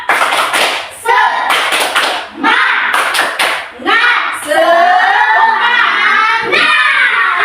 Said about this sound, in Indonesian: Boleh tepuk semangat